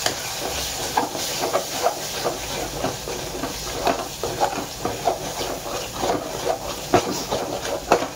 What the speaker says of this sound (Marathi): मसाला चांगला शिजवून द्यायचा